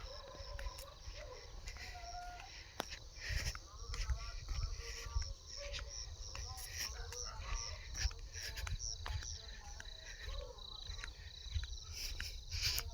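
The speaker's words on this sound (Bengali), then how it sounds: "আর ঝিঝি পোকার ডাক শোনা যাচ্ছে।" Crickets chirp steadily in a quiet village on a foggy winter evening, a thin continuous trill over a low background rumble, with no talk.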